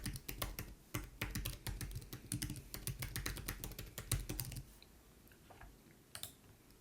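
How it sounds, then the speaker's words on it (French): An email address typed on a computer keyboard: a fast, steady patter of close key clicks that thins out to a few scattered taps near the end, fairly quiet and with no talk. "j'écris simplement son adresse de courriel."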